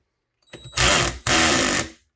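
A Stanley Fatmax cordless drill drives a screw into a workpiece in two loud, close bursts of whirring motor, the first longer, separated by a brief pause, then spinning down.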